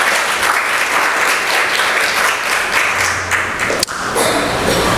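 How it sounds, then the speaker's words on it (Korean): A church congregation bursts into sustained, loud applause during a Korean Sunday sermon, a steady wash of many hands clapping for five seconds with one sharp thump near the end. "하나님께 영광의 박수 좀 돌리십시다."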